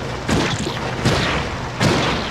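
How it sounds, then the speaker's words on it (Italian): Cannon shots in the video game SpongeBob Atlantis SquarePantis: three loud, booming blasts spaced roughly three-quarters of a second apart over a constant noisy background. "È giunta l'ora di raddoppiare i colpi del cannone."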